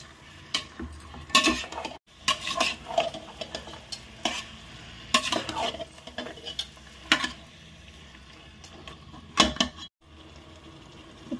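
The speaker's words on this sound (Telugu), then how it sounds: "ఇందులో ఇప్పుడు చికెన్ వేసుకోవాలి. ఒకసారి బాగా కలుపుకోవాలి." Chicken being stirred into chicken khichdi in a pot: repeated scraping strokes of a spoon against the metal over a light sizzle, close and fairly loud, with brief pauses between bursts and no voices.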